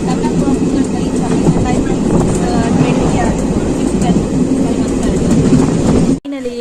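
A train on the Mangalore to Coimbatore route rumbles along the rails in a loud, continuous roar heard from on board, cut off abruptly near the end.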